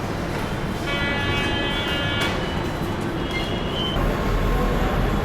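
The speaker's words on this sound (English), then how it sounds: "So we're at the railway station," Constant rumbling roar of a passing train fills a metro station in Jaipur, India, with high metallic wheel squeals cutting in briefly, loud and close.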